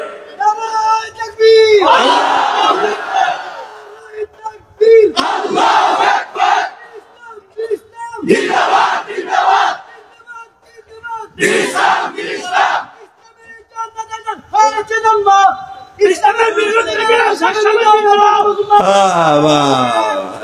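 A large crowd at an Islamic sermon shouts the takbir in unison, several loud chanted calls rising and breaking off with pauses between, with a preacher's voice leading in the gaps.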